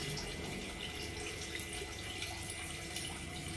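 Running water pours steadily while goat intestines are washed with hot water, a continuous close splashing and trickling rush with no talk over it.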